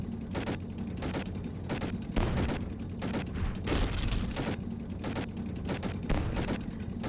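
Rapid bursts of gunfire from a defense turret in the video game Toy Defense 2, repeated shots in quick volleys over a steady low rumble of game music and battle noise.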